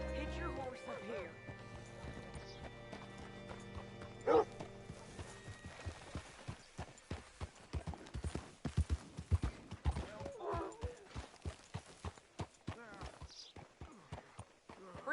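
Horse hooves clip-clopping in a western-style video game, a run of rhythmic hoofbeats that grows busier after a quiet start, with character voices talking over them.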